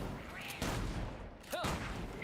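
Gunfire in a video game aimed at enemy watchtowers, a dense stretch of steady shooting with louder bursts near the start and end, up close with game noise underneath.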